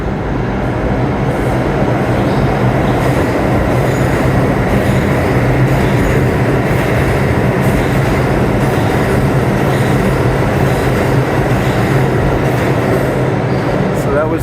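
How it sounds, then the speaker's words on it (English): An express train on the New York City subway runs through the 33rd Street station without stopping, a loud, continuous roar of wheels and rails with faint squeals and clicking. "that was an express train heading downtown."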